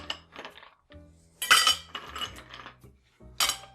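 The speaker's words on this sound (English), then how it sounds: "Let's go ahead and get some ice in our glass while we're shaking." Ice cubes clink and rattle into a glass while a blackberry-sage margarita is being made, in several sharp, close bursts of clattering with short pauses between them.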